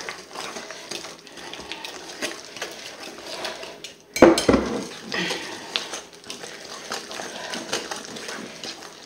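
A spoon stirs homemade tiramisu mixture in a bowl with scraping, clinking strokes that turn louder and more vigorous partway through, set close against a quiet room with no voices.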